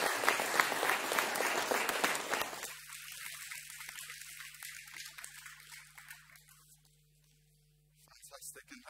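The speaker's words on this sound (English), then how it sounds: "let's give them one more clap as we continue" A church congregation at a Sunday all-age worship service claps loudly for a couple of seconds, then the applause fades out and leaves a quiet hum.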